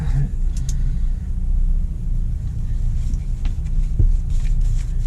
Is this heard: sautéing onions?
no